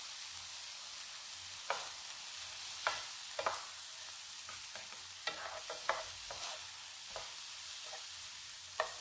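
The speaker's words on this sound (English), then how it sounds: "And toss some rice around in there like that." Pre-cooked white rice tossed and stirred in a hot pan, a soft continuous sizzle broken by repeated scraping and stirring strokes, close and quiet with no talk.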